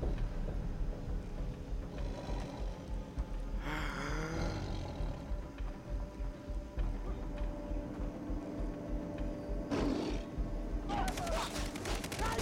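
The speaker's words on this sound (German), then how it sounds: "Dieser hässliche Tiger, ey." Tiger roaring in the jungle action game Far Cry 3, a rough growling burst near the middle set against constant game noise, bangs and a talking player.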